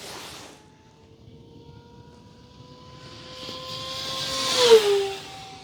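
E-flite ElectroStreak 1.1m electric RC plane on a maiden flight, a thin motor whine that rises and swells as it passes close, peaking sharply then dropping in pitch as it pulls away, with faint background hiss.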